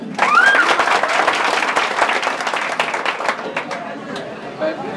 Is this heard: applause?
yes